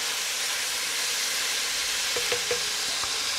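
Beef searing in a Dutch oven for goulash gives a loud, steady sizzling hiss up close, with a few brief clicks and scrapes near the end.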